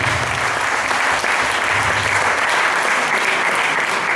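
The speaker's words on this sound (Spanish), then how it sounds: "Un aplauso para Luis." Sustained applause from an audience, thick and even clapping that holds at a strong level from start to finish.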